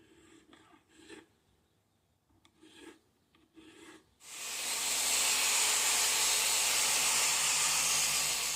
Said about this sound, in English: we're going to crown them and get them polished and wet sand the whole guitar